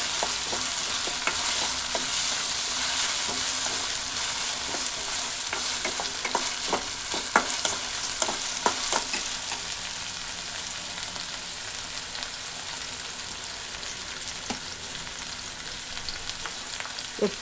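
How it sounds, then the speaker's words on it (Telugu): Tomatoes fry in a pan with a continuous steady sizzle, heard close, and intermittent spatula scrapes and taps in the first half before the sound settles into plain frying, with no speech. "తర్వాత టమాటో వేస్తున్నాను. టమాటాలు కూడా కొద్దిసేపు వేయించాలి."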